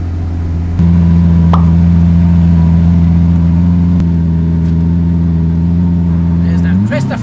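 A Lamborghini Aventador engine holds a loud, steady idle close by after a sharp onset, with a brief rise in revs near the end.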